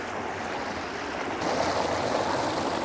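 Steady rushing water flows near a waterfall on a disc golf course, a dense continuous wash that swells slightly louder halfway through, with no voices.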